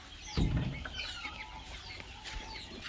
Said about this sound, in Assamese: এইবিলাক চব ডাঙৰ মুৰ্গী আছে, দেখিছেনে?